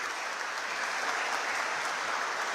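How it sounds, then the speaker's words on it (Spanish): Church congregation applause at Palm Sunday Mass for a couple marking 18 years of marriage, a soft, even wash of many hands clapping, fairly distant and steady throughout. "Un aplauso para ellos."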